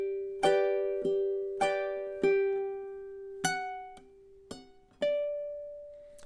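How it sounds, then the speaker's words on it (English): A ukulele plays measures 9 and 10 of The Office theme, a series of crisp plucked notes and chords in a steady rhythm, each ringing out and decaying, the last note held, close and unaccompanied. "the pair of here, of 9 and 10, should sound something like this"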